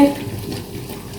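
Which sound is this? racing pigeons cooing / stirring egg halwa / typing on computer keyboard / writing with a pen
stirring egg halwa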